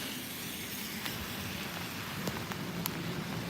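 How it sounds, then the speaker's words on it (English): Steady rain falls on a city street in Chicago's Uptown neighborhood, an even wash of patter with a few sharper drops, heard alone with no talking. "A nice rainy day in the city."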